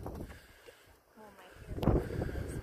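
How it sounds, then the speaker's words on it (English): Gusty wind buffets an outdoor microphone at a park, low rumbling blasts that swell and rise toward the end, with faint voices around it. "It's windy."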